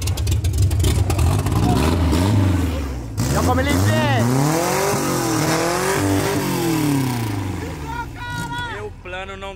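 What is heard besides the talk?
Chevette car engine started and revving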